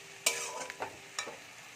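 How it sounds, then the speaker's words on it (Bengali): Ginger-garlic and tomato paste masala fries in a pan, with broadband sizzle under a few sharp scraping stirs spaced through the short stretch, close and fairly loud. "মশলাটা খুব ভালো করে কষিয়ে নেব"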